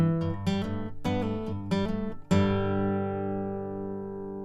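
Acoustic guitar plays the closing phrase of a song intro, quick hammer-ons and pull-offs in a short melodic run, then a final chord left to ring and slowly fade, close and clear with no voice.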